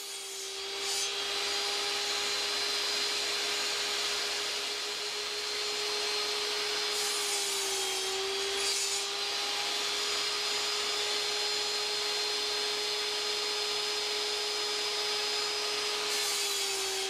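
A power saw cuts wood pieces for a museum display build in a workshop, a steady loud whine with a constant pitch running throughout, briefly dipping as the blade bites twice around the middle.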